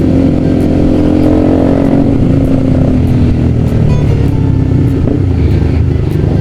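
A group of nine motorcycles rides together on a long road trip home from Bromo toward Madiun. A loud, continuous close-up engine roar with wind rush fills the whole stretch, with no talking.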